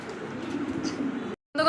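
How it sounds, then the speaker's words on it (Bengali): A pair of fancy pigeons coo close by, with a steady low murmuring that breaks off briefly before resuming near the end. "আর দেখেন দেখার মতো একজোড়া কবুতর"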